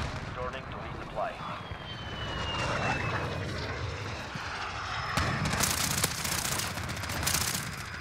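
A VTOL aircraft flies by in a video game, its engine roar steady and fairly loud amid gunfire and explosions, with a voice speaking over the action.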